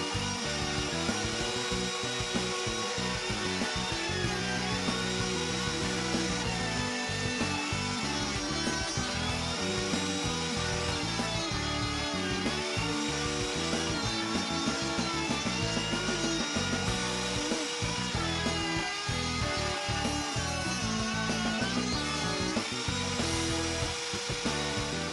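Drill-press sanding attachment working a wooden chain link, a steady continuous abrasive whir with grinding texture running the whole time, fairly loud and close, no talking.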